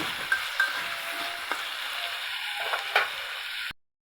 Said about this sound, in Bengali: পেঁয়াজটা আলুটা সঙ্গে ভেজে নিচ্ছি